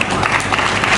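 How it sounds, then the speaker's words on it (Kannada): Audience applause at a science event honoring Dr. Hulikal Nataraj, a dense steady patter of clapping filling a brief moment, loud and close. "ಡಾಕ್ಟರ್ ಹುಲಿಕರ್ ನಟರಾಜ್ ಅವರು ಒಂದು ಪ್ರೀತಿಯ ಚಪ್ಪಾಳೆ."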